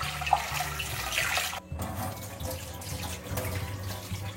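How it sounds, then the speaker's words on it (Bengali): Lentils with carrot and sweet potato are rinsed under a running kitchen tap, water splashing steadily with a brief break, then resuming with hollow sloshing in the bowl. "এবার এটাকে একটু ভালো করে জল দিয়ে ধুয়ে নেবো।"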